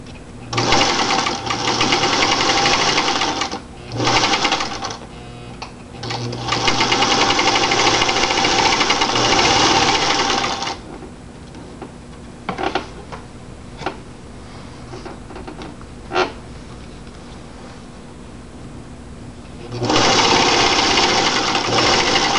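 Sewing machine stitching fabric for a grocery bag holder, loud rapid whirring bursts that start and stop several times, with a long quieter stretch of small clicks and handling noises before a final run of stitching.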